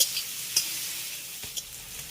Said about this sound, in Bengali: মটরশুঁটিটাকেও আলুর সঙ্গে আমি কয়েক সেকেন্ডের মতো একটু ভেজে নেব